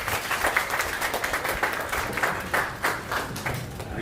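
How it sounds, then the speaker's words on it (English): An audience at a storytelling workshop applauds a speaker, a steady patter of many hands clapping at moderate volume for a few seconds, with no talk over it. "Let's give a warm round of applause to Peter Prashant"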